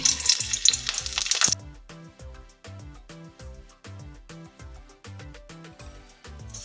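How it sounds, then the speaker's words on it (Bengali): Green chillies and panch phoron crackle in hot oil, a loud, dense sizzle for the first second and a half before it cuts away to background music. "ফোড়নের জন্য আমি কাঁচা লঙ্কা দুটো দিয়ে দিচ্ছি আর তার সঙ্গে পাঁচ ফোড়নটাও দিয়ে দিচ্ছি"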